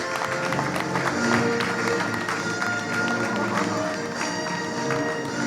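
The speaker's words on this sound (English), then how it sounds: "Ladies and gentlemen, a huge round of applause for our panel." An audience claps steadily for a seated panel at a formal event, a broad continuous wash of applause with a faint murmur of the crowd beneath it.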